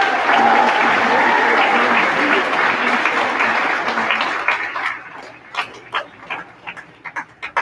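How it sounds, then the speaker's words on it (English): Round of applause at a 2018 Marietta High School awards ceremony, a full crowd clapping loudly, then thinning out into a few scattered, separate claps. "Now he will give him a round of applause"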